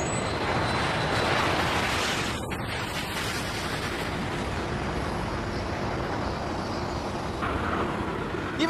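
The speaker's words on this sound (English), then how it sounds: "Boeing 727, a classic jetliner." A classic Boeing 727 jetliner of about 100 tons takes off with a loud, broad, roaring rush that stays steady and thick throughout, with no talking over it.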